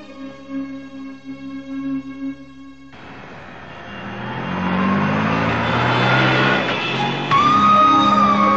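A lorry comes up from behind on a road. After a few seconds of music, a broad engine rumble and road roar swell in and grow louder and closer, holding steady and near to the end.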